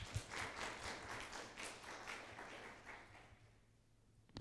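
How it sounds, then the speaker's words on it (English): Faint audience applause for a speaker at a talk, a scattered patter of hand claps that fades out over a few seconds. "Can we please give a round of applause for Dr. Harper?"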